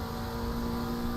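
Damaged McLaren race car engine at Monza in the Assetto Corsa Competizione racing game, a steady, loud mechanical drone with a constant harsh tone and no change in pitch, heard on its own without talk.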